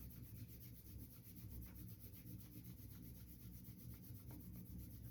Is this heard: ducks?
no